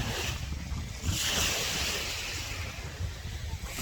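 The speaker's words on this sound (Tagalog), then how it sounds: "At ngayon, nandito na tayo sa dagat ng Batuhan, Pola Oriental, Mindoro." Ocean waves at the sea of Batuhan in Pola, Oriental Mindoro, a steady broad wash of surf with wind buffeting the microphone, continuous and fairly loud with no talking.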